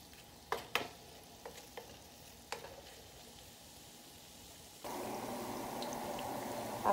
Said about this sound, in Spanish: Aquí friendo los plátanos maduros.